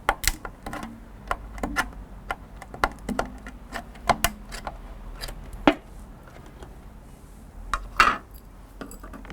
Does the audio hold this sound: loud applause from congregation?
no